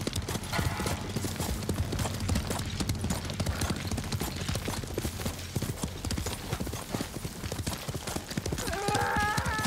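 Horse hooves galloping in the Ghost of Tsushima video game, a fast, steady clip-clop rhythm throughout, with a brief whinny near the end.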